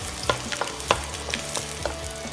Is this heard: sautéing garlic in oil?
yes